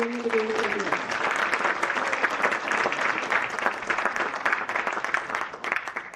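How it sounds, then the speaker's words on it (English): An audience at a high school FFA banquet applauds loudly and steadily, the dense clapping holding for several seconds. A voice sounds briefly at the start, and the applause fades slightly near the end. "Can we please get another round of applause for our Green Hand degree recipients?"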